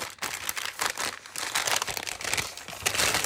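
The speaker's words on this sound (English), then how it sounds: "And then there's a final bag to open." A plastic bag is opened during an unboxing of a sewing and yarn order, its close, bright crinkling coming in repeated bursts with no talk.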